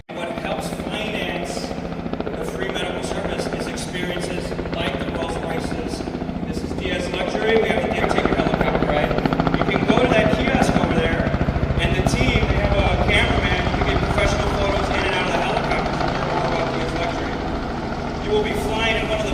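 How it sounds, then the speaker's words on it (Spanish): A helicopter's engine and rotors running steadily before a sightseeing flight over Chicago, a continuous loud drone and whine with people talking over it throughout. "Vamos ahora abordando nuestro helicóptero."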